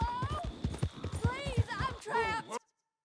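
Horse hoofbeats clop along at a gallop in the video game Red Dead Redemption 2, a quick rhythmic patter running beneath continuous talking before cutting off abruptly.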